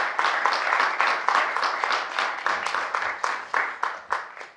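Audience at a green hackathon event claps in a loose rhythmic pattern, distinct hand claps pulsing steadily at moderate loudness and thinning slightly toward the end.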